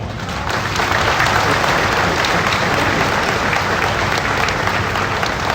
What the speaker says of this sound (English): So you shouldn't have clapped yet